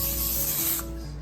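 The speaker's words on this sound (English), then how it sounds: "we're still gonna spray it" A steady hiss of cooking spray onto a foil-lined baking sheet for about a second, close to the microphone, then it stops and leaves a low background hum.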